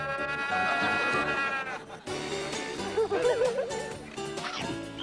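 A goat bleats loudly several times in wavering, quavering cries, close by, with other animal calls mixed in and no talking.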